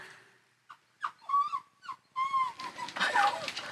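Small puppy whimpering and whining in a series of short, high, wavering cries, close and fairly clear, with some rustling behind the later calls.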